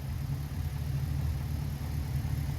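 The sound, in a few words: Holden Commodore SS V8 engine idling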